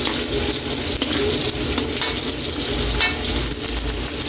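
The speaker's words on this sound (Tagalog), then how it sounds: "Okay na yung bawang natin, lagay na natin yung sibuyas." Onion tipped into garlic already frying in a pan for pakbet, a steady loud sizzle with scraping stirs throughout, close and alone.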